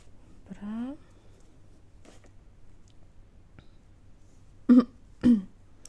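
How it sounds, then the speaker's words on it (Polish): A person recovering from a sore throat clears their throat with a rough, rising rasp, then gives two sharp, close coughs in quick succession, with quiet handling sounds around them. "ja jeszcze czasami mam kaszel, ale to już taki produktywny kaszel"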